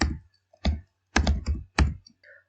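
A computer keyboard typed on while entering C code, a few close, crisp clusters of key clicks separated by short quiet gaps.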